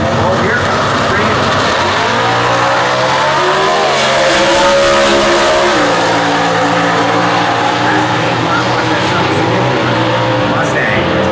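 Factory Stock drag race cars, a Ford Mustang among them, launch off the line at the US Nationals with a loud sustained engine roar and rising revs, heard amid crowd noise and an announcer's commentary.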